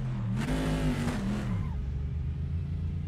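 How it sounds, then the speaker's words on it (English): A GT2 race car in the Assetto Corsa racing game revs loudly up close, its engine note rising and wavering through the first half before settling into a steady, lower drone. "Hopefully this is not too loud because I know this car is loud."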